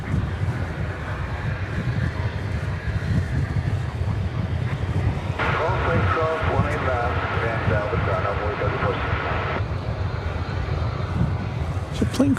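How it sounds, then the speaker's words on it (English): Airplane passing overhead at DFW Airport at night, a broad engine roar with a whining tone swelling for several seconds and then fading, mixed with wind buffeting the microphone and occasional voices. "There's a plane crossing right above us now."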